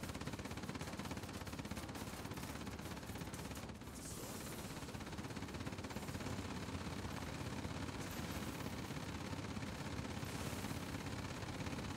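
Rear gunners on warplanes firing machine guns in the War Planes video game, a dense continuous rattle of gunfire over steady engine roar, loud and sustained throughout with a brief dip partway.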